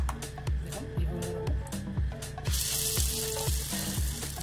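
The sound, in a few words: chana dal and potato pakoras frying in hot oil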